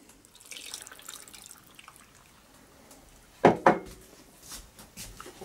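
Remaining water is poured into a crockpot of beef curry with spices and fish sauce: a couple of short, close splashing bursts after quiet kitchen background, followed by a few softer drips.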